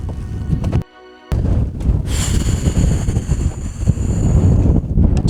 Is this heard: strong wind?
yes